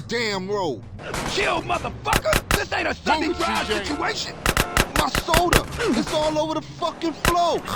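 Gunfire in Grand Theft Auto: San Andreas, a series of sharp, loud shots in scattered bursts and quick clusters, heard under someone talking excitedly over the game.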